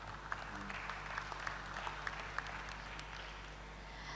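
Audience applause for conference delegates and a moderator in a meeting room, a steady moderate clatter of clapping with a few sharper individual claps, fairly close and alone without talk.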